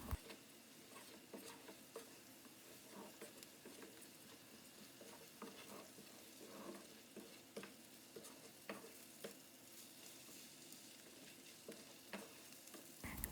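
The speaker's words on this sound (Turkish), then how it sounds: "Topak olana kadar soğanla birlikte kavurma işlemine devam ediyorum." Bulgur fries with onion and salt in a pan while being stirred, a soft continuous sizzle broken by scattered light scraping taps, quiet and close, with no voices.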